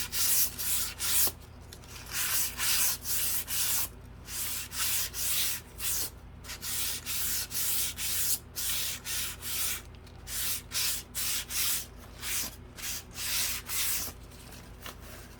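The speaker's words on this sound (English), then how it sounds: "just get the newspaper and just rub it on" Newspaper rubbed over painted surface of a craft planter, repeated rhythmic scrubbing strokes in short bursts of dry friction, close and steady, alone without talk.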